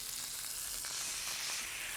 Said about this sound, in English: I'm shallow frying these in my cast iron skillet.